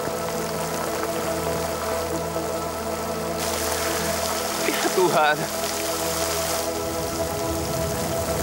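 Rain pours steadily in a dramatic scene, a dense even hiss of falling water with a short burst of movement midway; a person briefly speaks over it.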